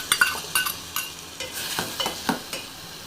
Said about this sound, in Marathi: आता ह्याच्यामध्ये आपण पायनॅपलचे तुकडे घेतले होते ना, ते चांगले तुपामध्ये चांगले भाजून घ्यायचे।